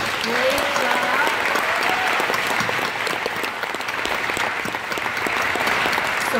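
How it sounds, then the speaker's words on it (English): An audience at a Carowinds winter warm-up presentation gives a round of applause for the presenters, steady dense clapping throughout, with a few faint voices mixed in beneath it. "let's give a big round of applause to all of our presenters today"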